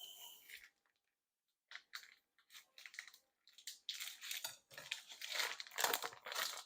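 Plastic bacon packaging is crinkled and torn open by hand without scissors, giving bursts of close crackling and crunching that start and stop before building into steadier rustling toward the end.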